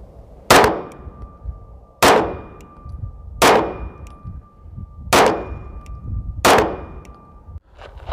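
Five loud 9mm pistol shots loaded with 115 grain bullets and small pistol magnum primers crack at steady intervals of about one and a half seconds, each with a metallic ring from a steel target and a brief decay.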